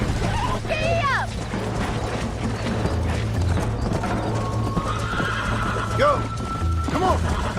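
A horse in Red Dead Redemption gallops with a rapid, rhythmic clip-clop of hooves and neighs loudly several times, over background game sounds, while a voice calls out encouragement.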